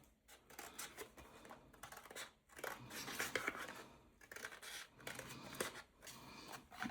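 Scissors snip through paper being trimmed to size for an art journal, a run of close, crisp cuts in uneven bursts with short pauses between strokes.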